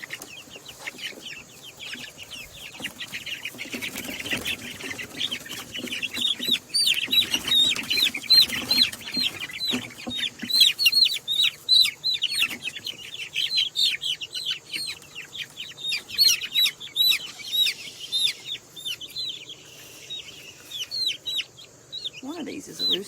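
Several young chicks, one a rooster, cluck and squawk close by while being moved into a homemade brooder, with brief wing flapping and occasional human voices in the background.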